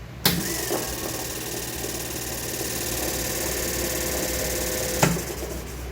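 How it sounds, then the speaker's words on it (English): A 1959 Cadillac generator powered up as a motor runs with a steady electric whine and hum for about five seconds, starting and stopping with sharp clicks, loud and close. "test to see if the generator will work as a motor"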